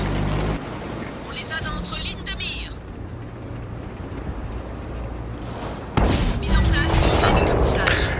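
A World of Tanks tank cannon fires with a loud, abrupt blast near the end, following several seconds of rumbling engine and battle noise beneath a speaking voice.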